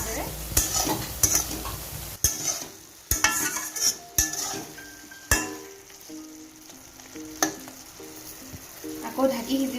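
Dry sea fish curry stirred in a pan on the stove, a spoon scraping and knocking against the metal in repeated strokes over a low sizzle, close by with no speech.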